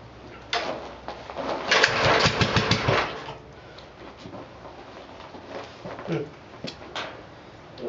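A flooded 1948 L tractor engine cranks over and tries to catch, giving a rough sputtering burst that fades into weaker uneven chugging, heard close by.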